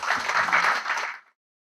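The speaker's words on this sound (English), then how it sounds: "I think they deserve a round of applause." Audience applause at a Lagos State government event, with a dense burst of clapping that holds steady for just over a second and then stops abruptly.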